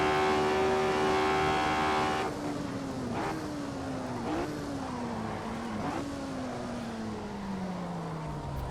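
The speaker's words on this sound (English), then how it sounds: "This car's a hell of a lot of fun to drive here." Race car engine on the Monza circuit, a high revving whine that drops with each gear change, then stretches into a long falling pitch as the car slows, steady and close from inside the cockpit.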